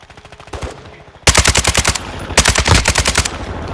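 A Kastov 762 rifle in Modern Warfare 2 fires rapid, close, loud automatic bursts, first a softer string, then two heavy volleys of evenly spaced shots.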